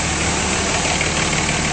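A lifted 2007 Dodge Ram 2500 with a 5.9L diesel idles steadily, a close, loud, even rumble with a faint knocking texture and no talking.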